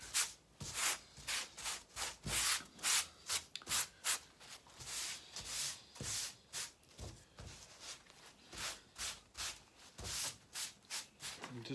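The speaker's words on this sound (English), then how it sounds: "turn this Airix over and remove any dust from this surface as well" A tack rag wipes dust off the surface of a sheet of Airex foam core with bevelled edges, prepared for a stabiliser composite layup: a close, steady run of rhythmic rubbing strokes with no talk.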